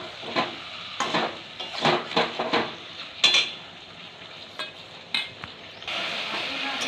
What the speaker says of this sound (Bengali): আস্তে আস্তে নাড়াচাড়া করে নেবো, ছেড়ে না যায়,